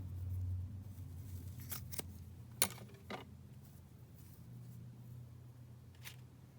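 Scissors trim scrap lace in a few quiet, close snips spread unevenly over a faint background hum, with no talk.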